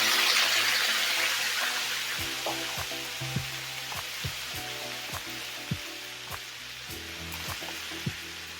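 Quarter cup of water poured onto eggplant frying in a pan, a loud hissing burst that gradually fades into steady sizzling, broken by spatula clinks and scrapes at close range.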